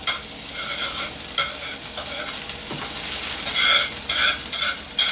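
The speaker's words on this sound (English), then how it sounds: "so we're going to throw in just a little more butter here" Butter sizzles in a hot crepe pan, a close, bright crackling hiss that swells and fades in bursts over a steady background, with no voices.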